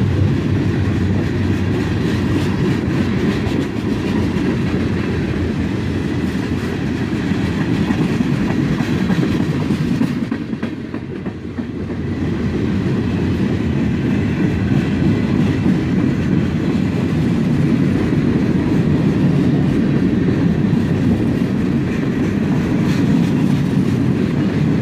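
A long CSX freight train with gondolas rumbles steadily past at close range, wheels clattering over the rails as it slows, the loud roar dipping briefly midway before returning.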